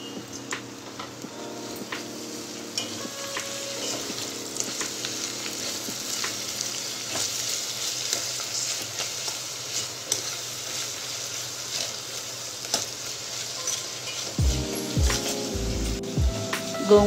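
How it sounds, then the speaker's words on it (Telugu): Finely chopped gongura (sorrel) leaves fry in oil with onion pieces for sambar, a continuous steady sizzle with bursts of stirring and scraping near the end. "ఉల్లిపాయ ముక్కలు ఫ్రై అయిన తర్వాత సన్నగా కట్ చేసుకున్న గోంగూర వేసుకోవాలి"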